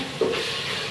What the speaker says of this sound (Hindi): लहसुन ये अच्छी तरह भून देती हूँ।